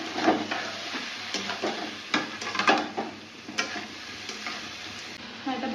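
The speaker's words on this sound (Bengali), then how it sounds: "এটাকে ভালো করে মেশানো হবে।" Banana flower curry with potatoes and ginger fries in a pan as it is stirred, a continuous sizzle with irregular scraping strokes and light clinks of the utensil, close by and without talk.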